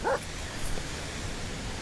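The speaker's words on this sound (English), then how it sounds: "Excuse me 1 second while I quiet my little doggy." A small dog at the beach gives a quick yip near the start, a brief bark over low outdoor surf and wind noise.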